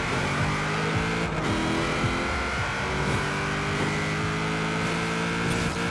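Nissan Fairlady Z 350Z drag tune launching in Forza Horizon 4, a loud, steady engine drone with rising revs and a brief tire squeal, the car pulling away continuously without talk.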